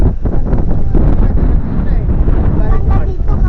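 Strong wind roars steadily across the microphone while riding a Kymco Super8 125 scooter, loud and close, with engine and road rumble underneath.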